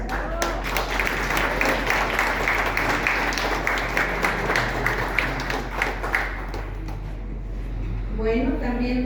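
Sustained audience applause breaks out at a book presentation event, dense clapping from a seated crowd that holds steady for about eight seconds before fading, after which a voice begins speaking.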